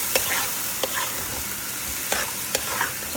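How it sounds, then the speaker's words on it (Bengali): Rice is stir-fried in a pan while making beef biryani, with a steady close sizzle broken by several sharp scraping strokes of a spoon against the pan. "চালটা দিয়ে দিয়ে এখন সুন্দর করে চালটা ভাজবো।"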